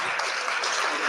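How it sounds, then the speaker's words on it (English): A brief, dense burst of audience applause in a live X Space audio room, heard as a hissy, compressed wash of clapping throughout. "A round of applause."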